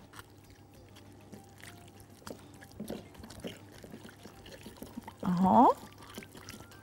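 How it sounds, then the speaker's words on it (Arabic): A small splash of water is poured into a lemon and tahini-like mixture for Sudanese-style ful fatteh, a brief close pour near the end after quiet kitchen sounds, with a short spoken word. "بعدين هنحط شوية مية صغيرين جدا ونشوف هنحتاج تاني ولا لا"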